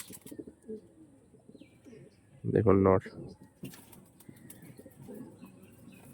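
Breeder pigeons, a directly imported male and female pair, give one loud burst of cooing near the middle, with softer chirps and someone talking in Bengali before and after.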